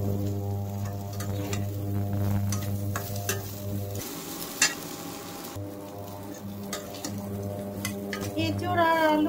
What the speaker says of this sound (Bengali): এঁচোড় আর আলু কষানো হয়ে গেছে